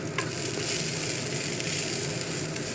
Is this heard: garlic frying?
yes